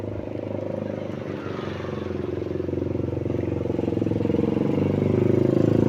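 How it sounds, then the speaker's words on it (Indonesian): A motorcycle engine idles steadily while warming up, a close, even putter that grows slightly louder toward the end, with no talk over it. "Sambil manasin motor"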